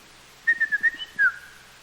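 A short run of clear, flutey whistled notes from a Baltimore Oriole, several quick phrases ending in a longer slurred note.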